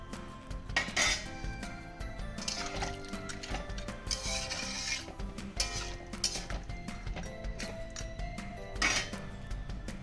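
Eggplant and lentil dumplings go into a cooking pan for a vegetarian drumstick chochhori, with repeated clinks and scrapes of utensils against metal and a faint watery drip, close and fairly quiet.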